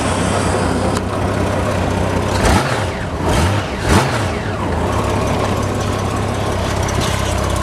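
A 1997 Honda Goldwing 1500 motorcycle, fitted with a removable trike kit, runs at a steady close idle, with a couple of brief rises in engine speed midway before it settles back to idle.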